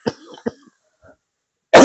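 Two sharp coughs in quick succession from a person close by, followed by a short pause and a loud burst of noise at the end.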